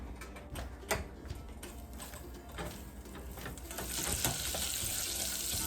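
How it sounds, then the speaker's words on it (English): Two tablespoons of butter melt in a pot over medium heat, giving a soft crackling sizzle with scattered small clicks and pops that thickens into a brighter, steadier hiss partway through. "we wanna add 2 tablespoons of butter and let that melt down"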